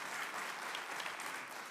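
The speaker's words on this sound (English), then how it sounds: "Do you agree in the audience? Go ahead and clap." Audience at a Senate Small Business Committee hearing claps in a brief, dense burst of applause, moderately distant and steady for under two seconds.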